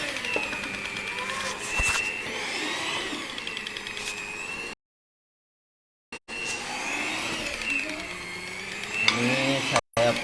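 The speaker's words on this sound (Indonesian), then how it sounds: "Saya pakai mixer yang 100 ribuan merek Miyako" A cheap Miyako electric mixer kneading donut dough whirs steadily with a buzzing motor drone, broken by a brief silent gap before running again, with a voice talking over it.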